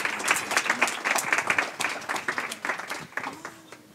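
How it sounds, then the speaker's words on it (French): An audience applauds a speaker at a French lecture on communication in the Russia–Ukraine war, a moderately loud patter of clapping hands that thins toward the end. "Je pense qu'on peut applaudir notre intervenante."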